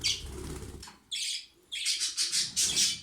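Budgerigar chicks chirp in close, shrill bursts, several quick calls separated by short pauses, with soft rustling and wing flutter between them.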